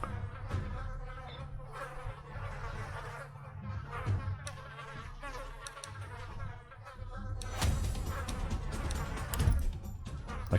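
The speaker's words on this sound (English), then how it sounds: "I couldn't concentrate with the flies." Flies in the Goblin Stone video game buzz steadily and loudly throughout, a constant droning hum that grows denser toward the end.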